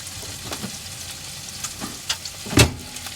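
Burgers fry on a pan at an overnight camp in a McDonald's parking lot, a continuous close sizzle with occasional spatula scrapes and pops, no talking.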